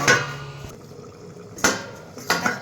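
A metal lid clanks onto a pot of curry leaf chicken gravy, with a ringing clatter at the start and two sharper metallic knocks later, close and fairly loud.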